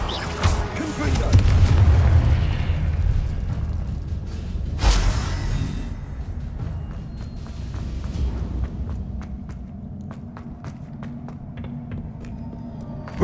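A Confringo blasting spell explodes in Hogwarts Legacy with a deep booming impact, then a sharp crack about five seconds later, over rumbling game ambience and scattered footsteps and clatter that fade out.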